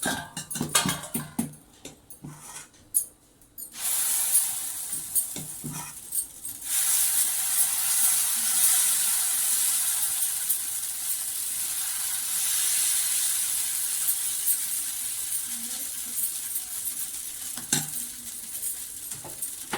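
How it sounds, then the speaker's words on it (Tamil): Tomato dosa batter hits a hot griddle after a few clinks of utensils, then breaks into a loud, steady sizzling hiss that carries on alone for over fifteen seconds. "ஸோ இப்போ தோசை ஊற்றலாம்."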